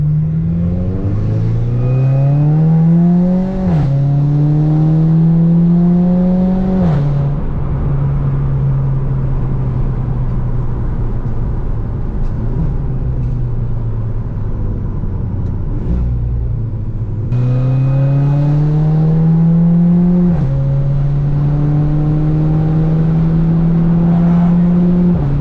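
A VW Golf GTI with a Stage 2 tune accelerates hard through the gears, the engine note climbing steadily with each shift as the turbo comes on, then easing off and pulling up again, loud and close with no talk.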